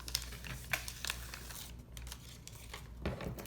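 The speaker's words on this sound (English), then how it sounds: "So now I'm going to take off the rest of this backing paper." Backing paper being peeled off a craft desk organizer: continuous crinkling and rustling with a few sharper crackles, close and fairly quiet.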